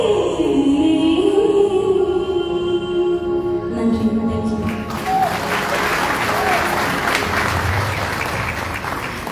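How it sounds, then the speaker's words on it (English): An audience at an Easter prayer festival breaks into applause after a stretch of sustained music, and the clapping rises loud and dense before settling into a steady roar. "think she deserves another round of applause"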